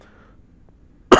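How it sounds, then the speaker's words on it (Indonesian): A single short cough, fairly close and sharp, breaks a near-silent pause right at the end. "jadi batuk"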